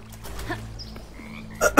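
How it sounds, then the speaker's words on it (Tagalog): Frog croaking in the video game Bramble: The Mountain King, a few low croaks close by, followed by a sharper burst near the end, with no talking. "Teka, may naririnig akong palaka."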